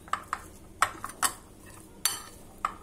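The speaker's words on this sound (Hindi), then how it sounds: "सबसे पहले जो चना है हम इसे बॉल में डाल लेंगे और इन्हें हम हल्का सा थोड़ा सा क्रश कर लेंगे" Boiled chickpeas are lightly crushed in a bowl, giving sharp metal-on-bowl clinks and taps at irregular intervals, fairly close and with no voices.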